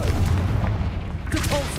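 A Confringo spell fires in the Hogwarts Legacy video game, a short booming blast like artillery that bursts out loudly against the game's dense background sound.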